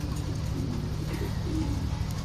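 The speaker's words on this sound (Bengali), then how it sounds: "এটা হলো 3 নাম্বার পিজনটা" A male pigeon of good bloodline coos steadily in a loft, a low, continuous throaty rumble heard close up with no talk over it.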